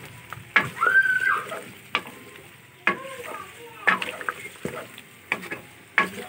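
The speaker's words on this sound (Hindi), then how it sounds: "अभी मैं इसको भूनूंगी।" Chopped tomato and green chilies sizzle in a pan while a spoon stirs and scrapes, sharp clacks every second or so over a steady, fairly quiet fry, with no one speaking.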